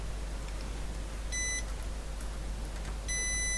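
A multimeter continuity test on a Mimi 802 machine under repair gives two short, high electronic beeps over a low steady hum, each lasting about a quarter second and well apart.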